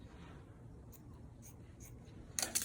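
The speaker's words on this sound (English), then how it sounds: "So now we'll go on to trim." Scissors trim dress fabric in a few short, soft snips spaced apart, ending in a brisker cut, close and quiet over a low background hum.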